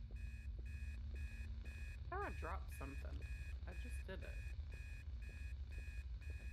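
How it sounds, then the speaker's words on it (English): A repeating electronic alarm clock rings steadily in the Obsideo ghost-hunting game, its pulsed beeps evenly spaced throughout, with a person talking briefly over it in the middle. "Where's this alarm clock?"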